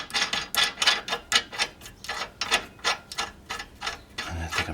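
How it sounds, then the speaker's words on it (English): A lug nut being spun onto a wheel stud on a Hyundai Sonata gives a quick run of about a dozen close, sharp metallic clicks. The clicks come in a fairly steady ratchet-like rhythm, with no talk. "I'm just gonna go ahead and put a lug nut on here."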